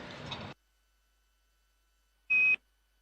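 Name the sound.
caution alarm beep aboard Boeing Starliner spacecraft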